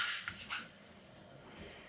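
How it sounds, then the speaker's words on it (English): A dog gives brief high whimpers and yips while being chased around a home, faint and intermittent, with short breaks of quiet between the cries. "My dad is chasing my dog."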